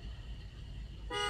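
Car horn honking outside a house, one short loud blare at the end after a low steady engine rumble.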